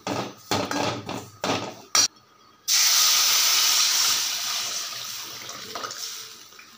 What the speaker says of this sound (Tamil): இப்போ இந்த கரைச்சி வச்ச புளித்தண்ணியை இதில் ஊற்றிக்கலாம்.